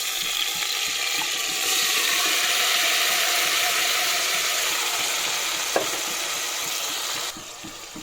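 Chicken and onions frying in a pan, a continuous close sizzle with scraping stirring sounds and a brief knock, dropping quieter near the end; no speech.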